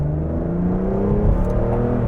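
A 2012 Aston Martin Virage engine hums and builds steadily as it revs under load, a deep continuous drone heard from inside the car, no voices.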